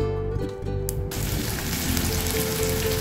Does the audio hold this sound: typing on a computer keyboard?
no